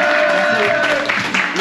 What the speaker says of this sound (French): On applaudit Seb les gars